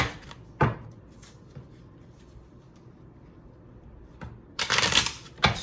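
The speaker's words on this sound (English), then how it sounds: "I'm actually not that good of a shuffler." Tarot cards being shuffled by hand, with a few short riffling bursts spaced apart and a louder flurry of shuffling near the end, close and crisp against a quiet room.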